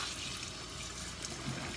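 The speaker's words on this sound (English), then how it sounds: "I'm going to rinse my rice completely until I get all the starch completely out." Uncooked rice being rinsed under running water to wash out starch for Spanish rice, a steady close splash and trickle of water that runs on without pause, fairly quiet, no talking.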